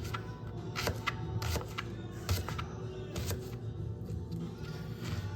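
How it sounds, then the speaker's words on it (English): A knife chopping food on a cutting board, with quick irregular taps close by, repeated a dozen or so times at a quiet level. "Just chop it up"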